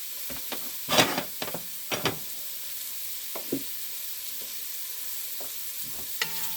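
Diced celery and bell peppers being stirred in a gumbo pot, giving a few scattered scrapes and soft clatters of a utensil over a faint sizzle, with quiet gaps between strokes.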